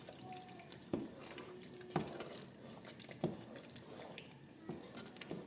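Fried mix being added to a Nigerian-style beef and fish stew in a pot, with quiet clinks of a spoon against the pot at roughly one-second intervals over soft stirring and faint bubbling.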